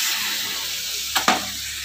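Steady sizzling of brinjal and coconut masala frying in a pan, with two quick hissing bursts as tamarind water is poured in, close and loud.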